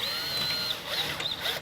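Power drill driving a self-drilling screw into a door closer arm, a whining motor that runs steadily, briefly dips, then whirs again in short bursts, close but fairly quiet.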